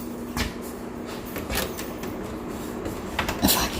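Refinished drawers in an apartment under renovation are tugged open with a few short, scraping wooden knocks, close and fairly quiet, spaced out over a few seconds.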